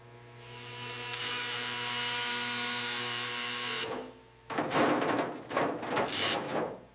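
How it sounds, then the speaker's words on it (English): An angle grinder whines at a high, steady pitch for several seconds on a car body panel during a 1967 Ford Mustang Fastback restoration, then cuts out and gives way to loud, rough bursts of grinding against the metal, close by. "Need the grinder."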